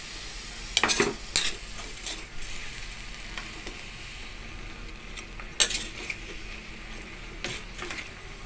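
A pot of bottle gourd and shrimp soup gets stirred, with a few sharp scraping and clinking strokes of the utensil over a low steady sizzle, fairly close and without speech.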